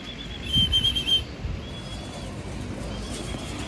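Pigeons being fed, cooing softly close by, with a brief fluttering of wings and a thin whistle-like call early on, over a low outdoor background.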